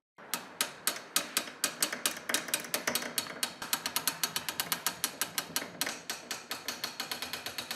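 A hand crank winds the weight of an old fire alarm telegraph system up in a tower, giving a steady run of sharp mechanical ratchet clicks, close and loud, with no talking.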